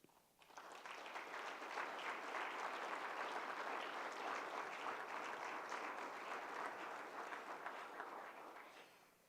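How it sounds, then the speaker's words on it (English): An audience claps after a keynote poetry reading, a dense sustained round of applause that starts abruptly, holds steady for about eight seconds and then tapers off, with no one talking over it. "Thank you for clapping."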